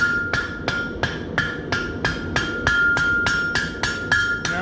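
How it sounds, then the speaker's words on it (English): Hammer blows forging the hot metal rim of a bottle opener, loud ringing strikes close up in a steady rhythm of roughly three per second, about a dozen in all, alone. "Now that it's hot again, I can continue forging around the rim"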